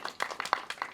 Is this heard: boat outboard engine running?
no